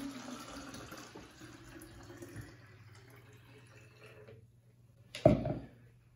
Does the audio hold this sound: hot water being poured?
yes